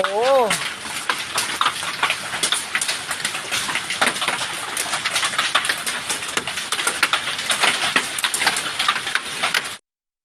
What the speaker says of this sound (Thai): เกิดลมกระโชกแรง ฝนฟ้าขนอง และลูกเห็บตก